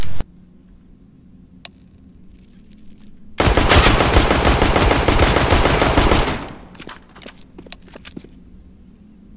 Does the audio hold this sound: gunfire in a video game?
yes